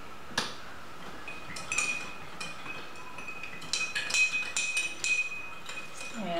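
Spoons clink and tap against drinking glasses as sugar is stirred in, in scattered bright metallic ticks from several glasses at once, light and irregular over a quiet room hum.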